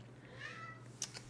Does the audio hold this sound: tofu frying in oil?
no